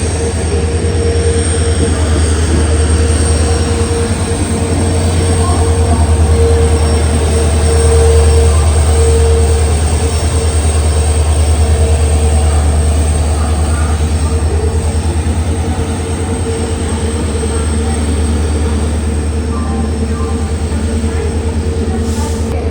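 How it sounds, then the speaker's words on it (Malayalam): A Mangaluru Central–Vijayapura Express hauled by a WDP4D diesel locomotive rumbles past on the Konkan Railway in monsoon, a steady loud low drone with a thin whine above, sustained throughout with no clear pause. "മംഗളൂരു സെൻട്രൽ വിജയപുര എക്സ്പ്രസ് ആണ് ഇപ്പോൾ അങ്ങോട്ട് പോയത്."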